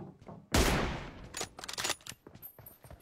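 A single sharp, loud M24 sniper rifle shot in a shooting video game, followed by a quick series of smaller clicks and pops, probably bolt action and game sounds.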